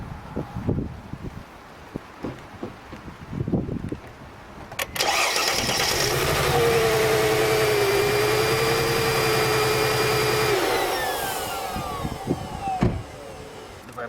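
A car engine with one ignition coil unplugged, running on three cylinders, cranks and catches with a sharp start, then settles into a rough, loud, uneven idle for several seconds before shutting off amid clicks and clatter.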